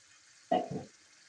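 Water splashed into a hot frying pan of tomatoes and chilies gives one short, soft sizzling hiss that fades within half a second, with no talking.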